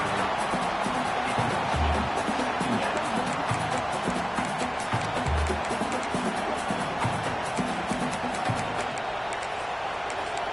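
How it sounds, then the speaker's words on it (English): A dense roar of a huge college football stadium crowd at LSU versus Alabama sustains throughout, cheering and shouting blended together with occasional low thuds underneath. "And wow, listen to this crowd noise. This stadium is vibrating."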